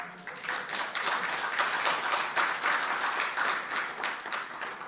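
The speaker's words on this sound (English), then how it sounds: "Clap." Steady, dense audience applause from a crowd at a quantum technology summit keynote, loud and continuous for several seconds with no talk over it.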